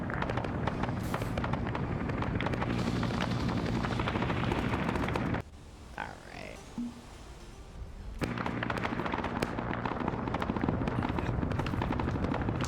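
Helicopter in an Arma military video game operation, a loud continuous rotor drone with crackling bursts that drops away briefly mid-way, then returns at full strength.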